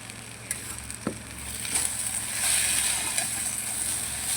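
Cumin seeds dropped into hot oil in a home kitchen while cooking a Bengali dish of pabda fish and spiced okra, giving a soft, steady sizzle with a few sharp crackles and clinks of utensils.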